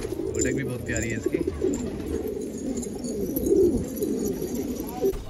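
Pigeons coo softly and repeatedly in a loft, a low murmuring chorus running under a voice as he talks.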